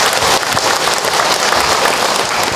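Audience applause for the mothers at a religious talk, dense steady clapping from a crowd filling the room at close range.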